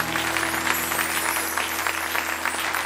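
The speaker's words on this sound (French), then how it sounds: "Est-ce qu'on peut applaudir notre Dieu?" A church congregation at a Sunday service applauding together, brisk dense clapping with a steady electrical hum beneath it, lasting a few seconds.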